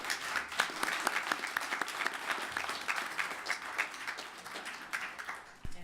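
Sustained applause fills a Birmingham city council meeting chamber, dense steady clapping from a crowd at moderate volume, holding for about six seconds before fading out.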